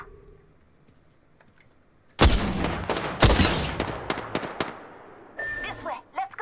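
Apex Legends gunfire erupts after a quiet start: a sudden loud volley, then scattered sharp shots and bursts that fade briefly before another flurry near the end.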